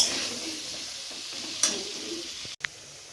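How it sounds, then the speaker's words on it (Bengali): Pointed gourd fries in oil in a pan, a continuous soft hiss with a few brief scraping stirs and a sharp clink near the end, fairly faint and close. "পটলটা মাছের মতো করে ভেজে নেব"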